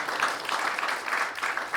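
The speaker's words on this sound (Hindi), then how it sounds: "एक ज़ोरदार ताली हो जाए प्रेम जी के लिए" An audience claps loudly for Prem Sharma at a poetry and painting event. The applause is a dense, steady patter of many hands that holds for the whole stretch with no break.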